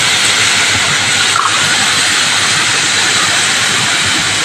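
Pointed gourd (potol) pieces sizzling and being stirred in hot oil, a loud steady broadband hiss filling the whole stretch with no pauses.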